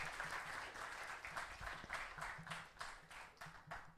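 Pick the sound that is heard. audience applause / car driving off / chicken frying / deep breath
audience applause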